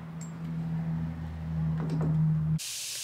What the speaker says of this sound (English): you can see some mist coming across in the light there